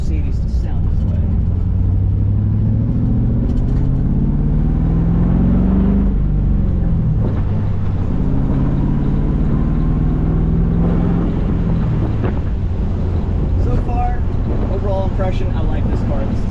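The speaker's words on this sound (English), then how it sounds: "we do not expect a Mercedes to sound this way" A Mercedes SL fitted with an LS2 V8 drives along with a deep, loud, continuous rumble that rises and falls as it revs through gears, close and dominant, with a voice talking over it.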